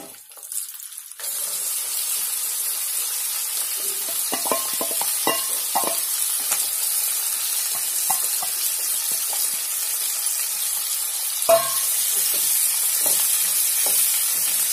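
Chopped onions and green chillies hit hot oil in a pan for dhaba-style chicken, a steady bright sizzle running throughout, with scattered spoon clinks and stirring knocks.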